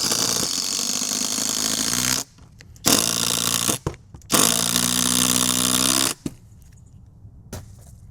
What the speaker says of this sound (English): I'm gonna put them head to head and let's see which one drills first